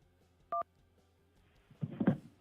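A single short two-tone telephone keypad beep, the key 2 pressed to reach voicemail on a call-in line, clear and brief, followed by a muffled rustle or handling noise a moment later.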